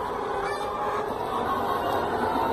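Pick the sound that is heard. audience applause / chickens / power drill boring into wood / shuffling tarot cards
chickens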